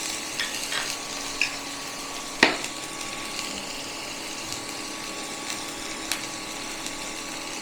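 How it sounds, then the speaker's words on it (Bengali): Onion frying in mustard oil with whole cumin and salt, a steady soft sizzle with occasional sharp pops and spoon clicks, close and continuous, with no talking. "পেঁয়াজটা একটু ভেজে নেবো।"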